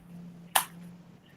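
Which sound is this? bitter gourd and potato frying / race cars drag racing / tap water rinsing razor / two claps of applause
two claps of applause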